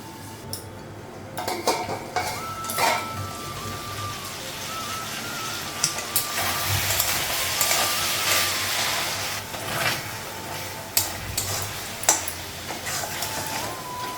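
Lid set on a cooking pot with metal clinks and clatters, repeated utensil knocks and scraping close by, several sharp hits against a steady background hiss.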